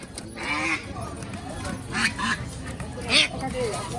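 Domestic ducks quack in short bursts amid a busy village market din in Dohar, Dhaka, Bangladesh, with people talking nearby throughout.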